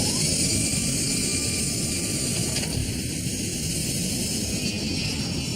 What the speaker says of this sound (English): At 11:42, the plane takes off.